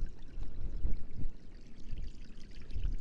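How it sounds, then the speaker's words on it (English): Water pours steadily down a homemade tiered garden stream, a continuous splashing rush with a low, bubbling churn, close by and alone. "A stream. And it's working its way down."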